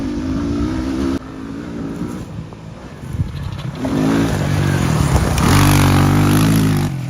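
A 1996 Yamaha Blaster 200cc air-cooled two-stroke quad with a six-speed manual clutch transmission buzzes loudly at idle, then revs up and holds a raspy, climbing drone close by.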